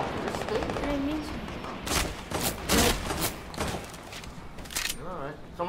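Rapid bursts of gunfire from a video game arena match crackle through the stretch, with a few heavier bangs standing out, mixed under steady chatter from players talking over it.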